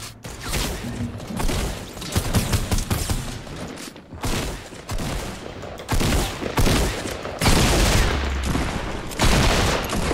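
Rapid bursts of gunfire in a Fortnite Battle Royale match, loud repeated shotgun blasts and volleys packed close together, filling the clip with barely a pause.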